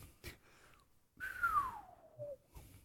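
A person whistles a single long downward-sliding note after a couple of short faint chirps, close but soft, with brief pauses around it and no talk during the tone.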